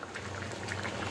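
Water coming to a boil in a cooking pot for a chickpea, pea lentil and potato dish, a continuous soft bubbling hiss, steady and close, no voices.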